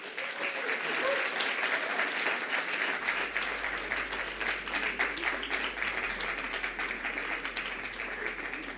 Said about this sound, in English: Please give yourselves a massive round of applause.